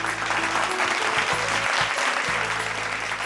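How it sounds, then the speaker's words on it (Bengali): A studio audience at a Bengali family game show claps loudly and continuously, a dense, even burst of applause from start to finish. "এবং আপনাদের জন্য একটা জোরে হাততালি, জোরে একটা হাততালি প্লিজ"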